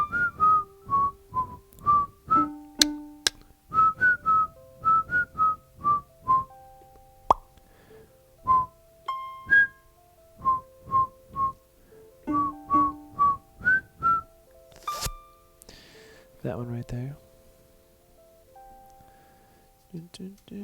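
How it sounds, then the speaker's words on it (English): A person whistling a cool instrumental tune, clear bright notes in short phrases with brief pauses between them, close and solo, with a few clicks and a stray voice near the end. "This one's a cool instrumental one. Some of you probably know this one by now. That one goes something like this."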